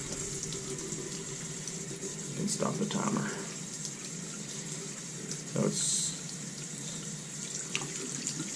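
Water runs steadily from a cold tap during a home hot-water recirculation pump test, a soft continuous hiss with brief clatters, while a person talks nearby.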